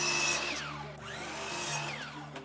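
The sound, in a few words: power saw cutting a fence picket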